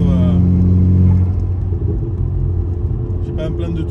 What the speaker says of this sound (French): vous remarquerez qu'il y a beaucoup de bruit à l'échappement